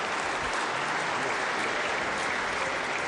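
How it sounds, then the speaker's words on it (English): West Virginia legislators give a guest in the chamber a continuous, dense round of applause that sounds loud and even from start to finish. "Yeah, give him a big round of applause."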